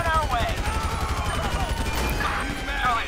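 Gunfire during a SWAT standoff in the LSPDFR police mod, shots crackling over background game noise while someone talks throughout.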